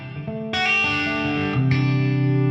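A guitar played through a HeadRush with reverb and chorus rings out in sustained, shimmering chords, a few strummed changes blooming into a washy, distorted tail with no talking.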